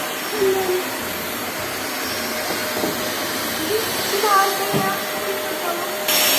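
A vacuum cleaner cleaning a car interior, a steady close whine and hiss running throughout, with faint voices and shifting nozzle sounds under it.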